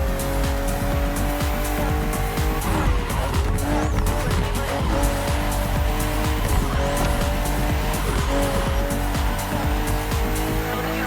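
BMW M CSL racing in The Crew Motorfest, with a steady loud engine drone and shifting harmonic tones as it accelerates, plus repeated sharp tire squeals and skids over continuous road noise.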